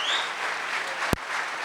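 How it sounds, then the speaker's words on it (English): An audience claps at the Tata Xenon Yodha commercial vehicle unveiling, a soft, even patter of applause that sounds somewhat distant and holds steady, broken by one sharp click. "let's give them a huge round of applause"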